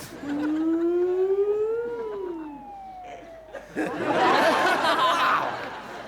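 A rising and falling siren wail sounds for a few seconds in Regent's Park, London, followed by a burst of loud, noisy laughter or chatter.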